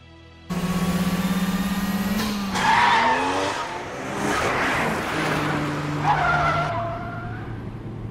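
A car in the anime Wangan Midnight pulls away with a sharp onset of engine roar and long, wavering tire squeals and skids, loud and close, with the pitch of the engine shifting as it accelerates.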